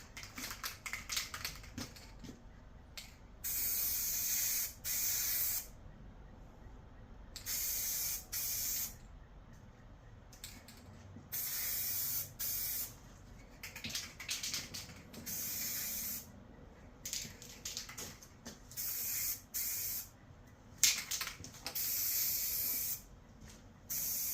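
Eastwood radiator-black spray paint hisses onto the fins of an aluminum radiator in repeated bursts of a second or two, separated by short pauses, close and clear with no talking.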